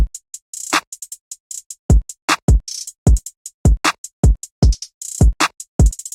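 Deep, punchy kick drum thumps join a programmed trap beat in FL Studio, landing in a syncopated pattern alongside a snapping snare and rapid rolling hi-hats, loud and up front with no talking.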